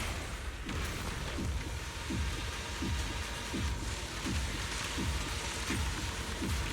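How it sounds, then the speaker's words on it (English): Heavy rain in the video game Zenless Zone Zero pours as a dense, even hiss, with low swooping tones repeating roughly every half second underneath and no voices. "be washed away by the great rain"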